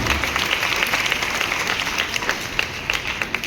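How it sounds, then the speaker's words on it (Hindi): An audience claps for a company's managing director at a corporate success event, giving a brief, moderately dense burst of applause with scattered sharper claps. "तालियां"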